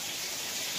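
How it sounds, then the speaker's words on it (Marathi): Heavy rain falls in a steady, dense hiss, constant and fairly close with no other sounds over it. "पण भरपूर असा पाऊस चाललेला आहे बघा"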